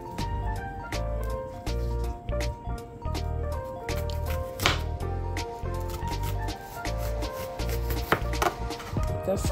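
Knife thinly slicing an onion on a cutting board for a vegetable salad, rapid close tapping cuts in quick bursts with brief pauses, no voices.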